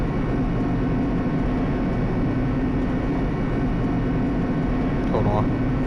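Steady, dense roaring rumble of a descending elevator in the video game Danganronpa 2: Goodbye Despair, continuous and loud with a brief higher tone near the end.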